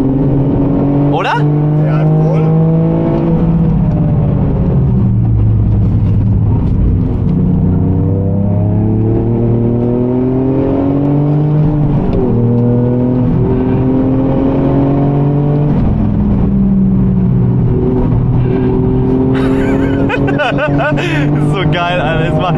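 A Toyota GR Yaris racing a lap of the Nürburgring Nordschleife, its engine loud and close throughout, rising and falling through repeated gear changes, with people talking over it.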